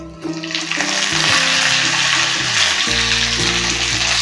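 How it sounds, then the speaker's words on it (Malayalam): Onions sautéing in oil for a Malabar fish curry, a loud steady sizzle and hiss that swells after the first half second and keeps going, with low tonal hum underneath and no talking. "ഉള്ളി നല്ലപോലെ വഴണ്ടിട്ടുണ്ട്"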